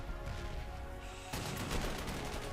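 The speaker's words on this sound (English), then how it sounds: "Double attack artillery." Artillery strikes in the Panzer Corps 2 World War II strategy game, a steady rumbling barrage that swells with a sharper burst of impacts midway and continues loudly to the end.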